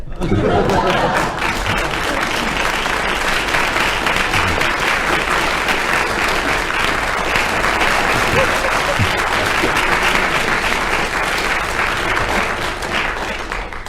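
Sustained, loud applause from a studio audience at a radio panel word-game show, dense clapping running steadily for the whole stretch with a few faint chuckles mixed in.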